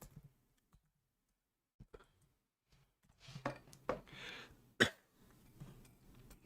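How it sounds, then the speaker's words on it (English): A quiet room with faint clicks, then a sharp cough close to the microphone followed by a few softer rustles and throat sounds. "I coughed right into the microphone."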